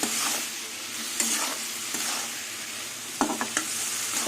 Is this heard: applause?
no